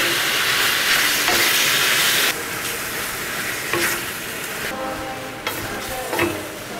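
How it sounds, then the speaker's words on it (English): Lamb pieces brown in hot vegetable oil in a pan for a massaman curry, giving a loud, continuous sizzle and crackle with occasional stirring scrapes that briefly change the frying hiss. "So we just add the meat just to brown it."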